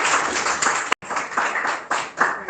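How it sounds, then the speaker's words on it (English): Seminar audience claps for a student presenter, a burst of brisk, fairly close hand clapping with a brief cut partway through, then continuing unevenly to the end. "Would you clap for Anuj?"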